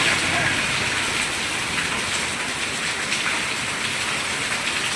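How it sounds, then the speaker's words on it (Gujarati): Heavy rain pours steadily through a storm in Junagadh, a dense, constant hiss of drops on surfaces that holds at the same loud level from start to finish, with no thunder standing out. "જો ફૂલે ફૂલ વરસાદ આવે ને ત્યારે"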